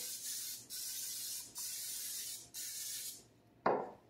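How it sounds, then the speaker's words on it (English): Three long hissing bursts from an aerosol can of cooking spray, sprayed over a sink, separated by brief pauses, followed by a short sharp clatter at the end. "I just sprayed my arm."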